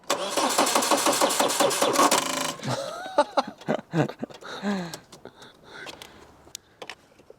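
A car engine, boosted by a REEG Jump Starter Air Pump 2-in-1, cranks loudly and steadily for a couple of seconds, then catches and fires up. It settles into uneven revving and idling, up close.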